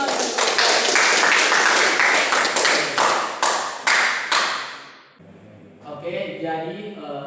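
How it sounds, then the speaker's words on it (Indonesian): Classroom clapping during a microteaching lesson, a burst of applause lasting about five seconds that fades out, followed by a person beginning to speak. "Ya, tepuk tangan."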